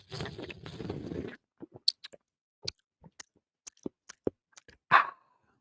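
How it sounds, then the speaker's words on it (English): Coffee is slurped loudly and noisily from a Stanley cup for about a second, followed by scattered small wet smacks and clicks. "I normally don't drink that loud."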